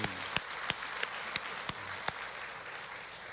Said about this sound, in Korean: 우리 하나님께 우리 영광의 박수 올려드립시다